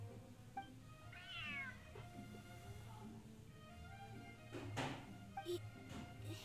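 A large cat meows twice in the Genshin Impact video game, each rising call short and clear, with soft thuds and faint game ambience around it.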